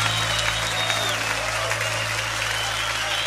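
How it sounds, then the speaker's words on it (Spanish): Sustained applause from a church audience at a live Christian worship concert, a steady wash of many hands clapping with a low musical drone underneath and no pauses. "manda tu aplauso a él fuerte"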